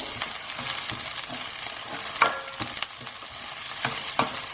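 Translucent onions and fresh green chillies stirred through a hot pan for a cauliflower pepper masala, giving a continuous sizzle broken by sharp spatula scrapes and clinks at irregular intervals.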